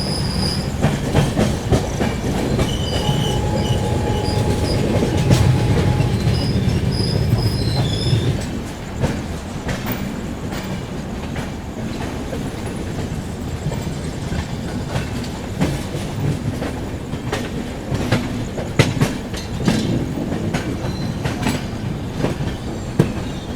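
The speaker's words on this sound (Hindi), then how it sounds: "अपनी ट्रेन पहुंच चुकी है दानापुर रेलवे स्टेशन पर" The LTT Patliputra Superfast Express (12141) running on rails toward Danapur railway station: a loud, steady rumble of wheels with irregular clicks and clatter, and a high squeal of the wheels in the opening seconds.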